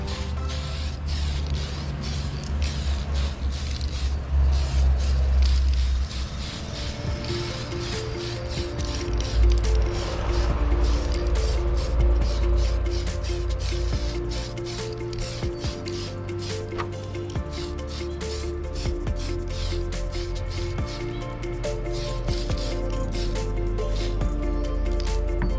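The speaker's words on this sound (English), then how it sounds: "So we're going to do another spray here" A spray paint can hisses in long, continuous bursts of light coats onto a Lexan RC car body, with faint rattling and handling noises between them, close to the listener.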